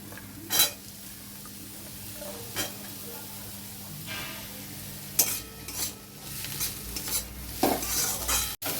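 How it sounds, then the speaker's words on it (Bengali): Onion and potato frying in a pan with cumin, a steady low sizzle with occasional sharp clinks and scrapes of a spoon against the pan, ending in a sudden knock. "পেঁয়াজটা 2 মিনিট ভেজে নিয়ে এবারে আমি আলুটা দিয়ে দিচ্ছি।"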